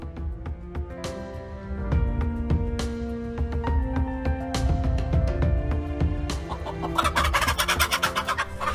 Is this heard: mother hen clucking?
yes